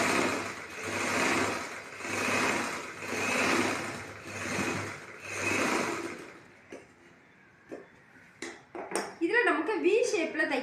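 A sewing machine stitches blouse fabric in steady rhythmic bursts of whirring, each lasting about a second, then stops, followed by soft handling clicks and someone speaking.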